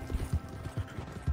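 Horse hooves clip-clop in Red Dead Redemption 2 Online, a steady rhythmic series of soft, low thuds up close, with no voices.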